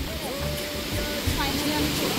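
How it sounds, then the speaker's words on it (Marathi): Rushing water of Kondi waterfall, near Chaul and Revdanda, pours in a steady, loud roar from start to end, with voices faintly mixed into the wash. "कारण हा धबधबा एकदम भारी आहे"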